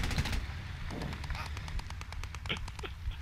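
Rapid bursts of autocannon fire in a World War II war game set around the Polish Brigade at Driel, sharp repeated cracks in quick succession, loud and close, with no one talking.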